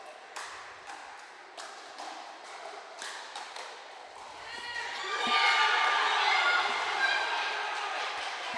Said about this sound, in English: The crowd is wild.